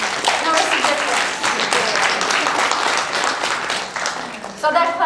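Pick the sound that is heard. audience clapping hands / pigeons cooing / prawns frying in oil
audience clapping hands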